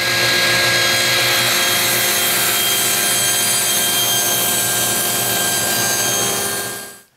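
Saw blade making a test pass through a piece of poplar stock while setting blade height for thin wooden guitar picks; a steady, loud whining cut that runs continuously for about seven seconds, then stops abruptly.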